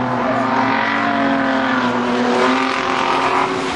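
A four-cylinder bandit race car engine roars loudly and continuously with a harmonic whine coming off the turn, the pitch holding strong as it powers through, with crowd and track noise beneath.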